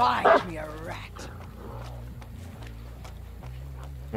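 A dog in the video game Dead by Daylight barks briefly at the start, followed by steady tonal game sounds and soft thuds at a low, even level.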